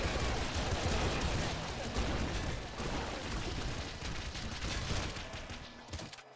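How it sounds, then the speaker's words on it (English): Big ink blobs fired from a blob cannon in the video game Nuclear Throne, spawning smaller ink blots, in a dense, continuous barrage of booming, crackling weapon bursts that stays loud throughout before cutting off abruptly. "Fires a big ink blob that spawns smaller ink blots, and they can be set on fire."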